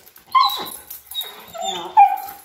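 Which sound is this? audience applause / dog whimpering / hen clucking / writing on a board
dog whimpering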